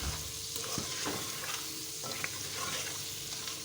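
Mutton pieces with spices lightly frying in a karahi, a steady soft sizzle with repeated scraping stirs, close and moderately quiet, no voices.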